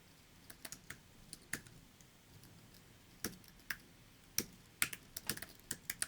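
Quiet, irregular keystrokes on a computer keyboard while an online account form is filled in, arriving in short bursts and scattered single clicks with pauses between, no voice.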